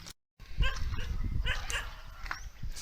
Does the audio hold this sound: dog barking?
yes